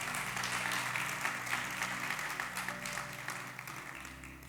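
A church congregation applauds during a sermon, a sustained wash of clapping from a crowd that gradually thins over about four seconds before a sudden loud burst at the end.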